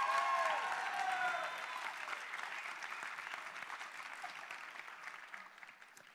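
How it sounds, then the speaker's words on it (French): An audience claps through sustained applause at the Sorbonne Université final of Ma thèse en 180 secondes, loud at first and then slowly thinning out, with a few whistles early on. "Oui, des applaudissements bien sûr."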